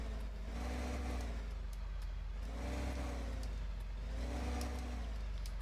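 A big tractor engine drones steadily while pulling a small plow in Farming Simulator 15, a continuous mid-pitched hum with slight rises and falls in load, alone without talk.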